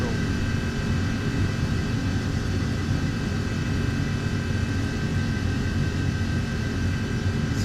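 MD-11 freighter jet engines roaring at full thrust on the takeoff roll in the X-Plane 12 flight simulator, a loud, steady broadband rumble with a high whine, while someone talks over it.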